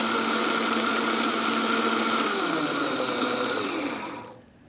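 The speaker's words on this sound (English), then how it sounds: "All right, let's turn our Vitamix on." Vitamix blender running at full speed, a loud, steady close-up whir that holds for several seconds and then winds down to a stop, with no talk.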